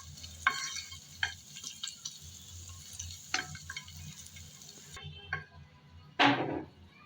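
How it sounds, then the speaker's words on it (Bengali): Garlic fries gently in a small amount of oil, a faint soft sizzle broken by intermittent light scrapes and taps of a spatula, ending with a short louder clatter. "কিছুক্ষণ নেড়ে চেড়ে রসুনটা ভেজে নিলাম।"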